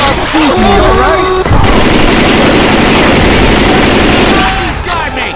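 Heavy sustained gunfire from the video game Left 4 Dead 2, loud, dense automatic bursts filling the scene with brief voices at the start and end.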